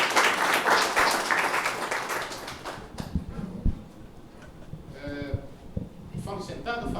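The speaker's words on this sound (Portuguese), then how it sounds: "Então vamos aplaudir." Audience applause at a talk on conflict mediation for building managers, loud clapping for the first few seconds that breaks off abruptly, followed by scattered noises and bursts of talk.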